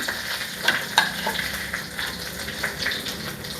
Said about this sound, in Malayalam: അല്പം കറിവേപ്പില ഇട്ട് കൊടുക്കാം